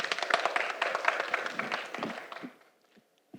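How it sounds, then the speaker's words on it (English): A short burst of applause from a small workshop audience, steady for about two seconds before fading out into near silence. "Applause, please."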